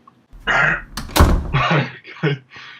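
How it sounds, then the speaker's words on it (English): A door is shut during a podcast recording, a heavy thunk with a sharp slam-like impact in the middle of nearby speech, loud and close. "The door is now closed and it's fully sealed in there"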